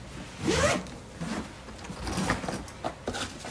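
A small zipper on the inside of a lightweight purple carry-on suitcase is pulled open in several short, rasping strokes, close up and clear, with no talking.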